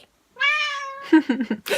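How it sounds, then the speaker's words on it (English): A small cat lets out one long, loud meow right up close, followed by a run of shorter, choppy mews. "So she's an absolutely crazy little cat."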